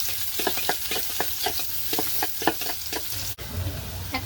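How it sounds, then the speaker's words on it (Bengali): Onions frying in a pan as they are stirred: a steady sizzle under repeated scraping strokes of a spoon, about a dozen in a quick rhythm, then a brief sharp knock and louder sizzling. "এখন আমি পরিমাণ মতন পেঁয়াজ দিচ্ছি। এখন আমি নেড়ে চেড়ে দিচ্ছি।"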